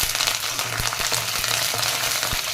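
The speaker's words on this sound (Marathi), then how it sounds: "आपण यामध्ये थोडासा कढीपत्ता घालून घेऊ।" Curry leaves hit sautéed onion in hot oil, giving a steady close sizzle and crackle with faint stirring scrapes, no voices.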